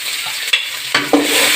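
Chopped onions fry loudly in a pan for a fish curry, a dense close sizzle broken by a few scraping stirs of a spoon.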